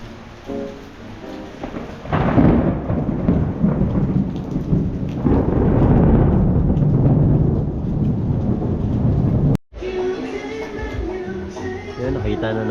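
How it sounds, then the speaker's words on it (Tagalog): Heavy rain falls in the hills of Baguio City as rolling thunder swells and rumbles loudly through the middle, with the steady downpour continuing after a brief cut and no talking. "Inabot tayo ng ulan."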